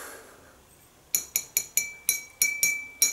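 A glass Christmas bauble ornament shaped like a post box clinks several times in an irregular series of bright, ringing taps, close and clear after a second of near silence.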